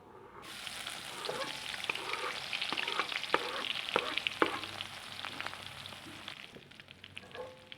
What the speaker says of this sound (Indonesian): sekarang kita tumis dulu bawang merahnya